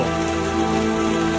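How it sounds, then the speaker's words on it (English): Hail falls in Guatemala with a loud, steady, dense pattering that lasts the whole moment, like heavy rain hammering a surface, close by and with no talk over it. "Look at the hail!"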